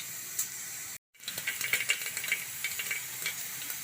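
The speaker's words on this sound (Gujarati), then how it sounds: "જીરું નાખીશું ને હિંગ નાખીશું. લીમડાના પાન નાખી દઈશું. તો આપણો વઘાર થઈ જશે" Cumin, asafoetida and curry leaves sizzle in hot oil for a tempering, a close steady crackle and hiss with small pops after a brief cut of silence.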